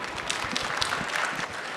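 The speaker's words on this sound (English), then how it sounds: "How about a round of applause for our panelists?" An audience at a Las Vegas SuperZoo convention panel applauds the panelists: a steady, fairly distant wash of many hands clapping that holds evenly throughout, with no voices over it.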